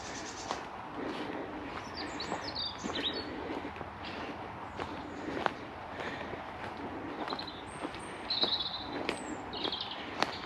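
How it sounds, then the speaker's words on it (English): Several birds chirp and call intermittently near a brook over a constant outdoor hiss, fairly faint and distant, with a few brighter calls near the end. "Lots of birds."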